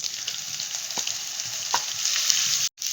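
Ground ginger and green chili are stirred in a frying pan for a curd okra dish, giving a continuous bright sizzle with a few spatula scrapes and taps, and a brief cutout near the end.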